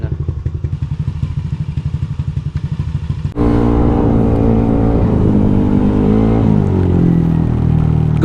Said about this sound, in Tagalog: So papainit muna tayo ng motor.